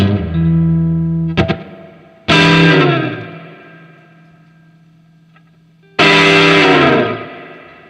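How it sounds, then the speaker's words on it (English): An electric guitar runs through a TC Electronic Line Driver distortion pedal turned fully up, with loud, gritty chords struck three times that each ring out and slowly decay. "The distortion is usable. I mean, even cranked."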